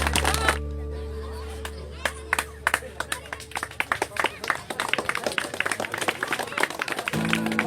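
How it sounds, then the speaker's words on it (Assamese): Scattered handclaps build into a round of applause from a small crowd at a kabaddi event, irregular at first then thickening, with a steady hum underneath. "হাত চাপৰি দিব অনুৰোধ কৰিছোঁ"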